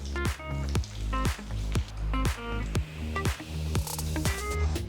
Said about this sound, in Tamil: மெதுவாக ப்ராக்லி சீஸ் பால்ஸை ஒன்று ஒன்றா போடுங்க